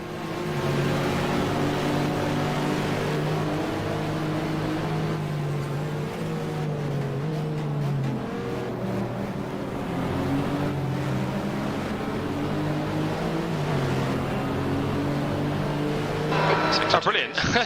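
A Marcos race car in an FIA GT racing game at Monza, its engine droning loudly and steadily with rising and falling pitch as it shifts gears throughout, while someone talks over it.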